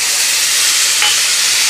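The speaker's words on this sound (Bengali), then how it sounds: "পেঁয়াজ আদা রসুনটা নেড়ে নিলাম।" Onion, ginger and garlic paste sizzles and fries in a pan while being stirred, a constant loud hiss close up with a faint scrape of the stirring.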